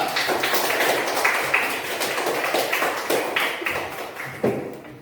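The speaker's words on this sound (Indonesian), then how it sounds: "kembali tepuk tangan untuk kelompok 4" Group 4 is applauded in a classroom lesson about reaching puberty, steady close clapping and tapping running throughout, dense and fairly loud with a few sharper claps standing out.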